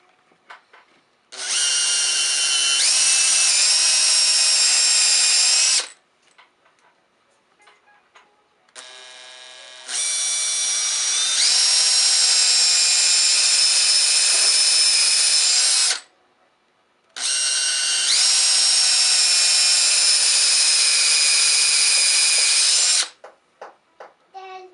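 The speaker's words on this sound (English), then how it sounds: "I'm going to just take my 5/16 bit, hold the drill straight, and go down." A handheld power drill with a 5/16 bit boring ferrule holes into a wooden Telecaster-style guitar body, running loud and close in three long whining bursts of several seconds each, separated by brief pauses.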